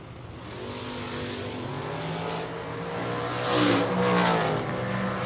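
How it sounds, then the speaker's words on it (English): Drag race cars, a Fox Body Mustang door car and a dragster, rumble and build in engine pitch nearby, the sustained tone swelling louder toward the end of the run. "Final door car meets the first dragster."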